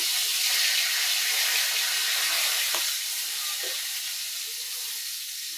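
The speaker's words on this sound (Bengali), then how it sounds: "একটু তেল দিয়ে দিলাম, আর দিয়ে নিতেছি তেজপাতা" Bay leaves sizzle in hot oil in a home kitchen while soybean curry is being made. A loud, steady frying hiss runs throughout and eases slightly toward the end.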